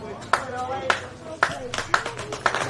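A home crowd at an Oakleigh Cannons versus Melbourne Knights football match applauds a player being substituted off, a steady ripple of clapping running beneath a commentator's voice.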